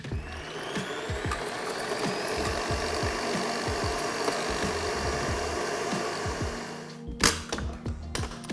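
A stand blender whips aquafaba into foam, a loud, steady mechanical whir with a knocking rattle that runs for about seven seconds, then cuts off, leaving a few brief clatters.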